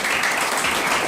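Audience clapping at a talk on civil liability for medical error, a dense steady patter of many hands filling the whole moment.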